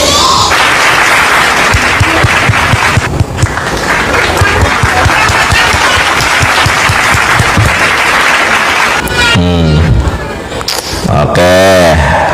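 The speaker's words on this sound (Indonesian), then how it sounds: "Tepuk tangan." Loud, sustained applause from a comedy show audience fills the whole stretch, dense clapping with crowd noise, briefly broken near the end by a couple of short whooping or squealing vocal sounds before clapping resumes.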